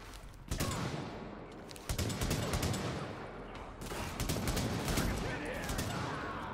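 Sustained gunfire from a firefight in the video game The Division, during a boss fight against Charles Bliss, with dense overlapping shots and bursts that keep going throughout at a loud, steady level.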